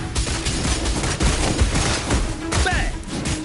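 Rapid video-game gunfire from Wuthering Waves rattles in a dense, continuous volley of close, loud shots with booming bursts throughout.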